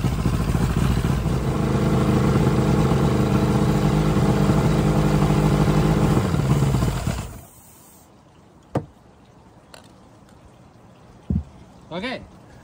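A two-stroke outboard boat engine runs at a steady, loud rattling drone for several seconds, then dies out abruptly as fogging oil is sprayed into the cylinders, leaving quiet with a few faint knocks and clicks.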